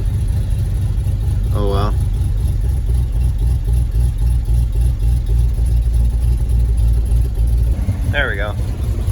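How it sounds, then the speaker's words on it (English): A 1971 Ford F250 Highboy with an FE V8 and leaking exhaust donut gaskets idles steadily and close, a low rumbling drone running throughout while a voice talks briefly over it twice. "Sounds good though, minus the normal FE exhaust leak"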